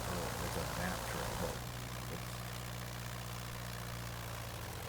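A simulated aircraft piston engine runs steadily in a flight simulator game, a constant low drone with a hum throughout, shifting slightly in tone early on.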